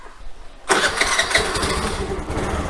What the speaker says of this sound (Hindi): तो और मैं सेल्फ लगाने वाला हूँ।